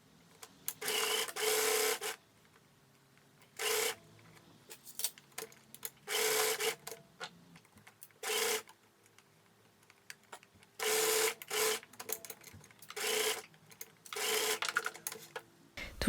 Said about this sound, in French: J'ai épinglé et je viens coudre dans la valeur couture.